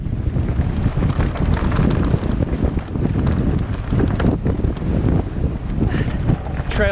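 Strong wind buffeting the microphone on a mountain bike trail, a loud continuous rough roar with gusty swells throughout, with someone speaking under it.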